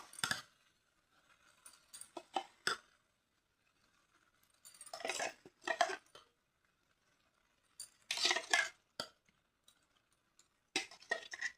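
Cashew and onion paste tipped into hot oil in a pan, with a few separate bursts of clinking and scraping from a utensil against cookware at close range, broken by quiet pauses.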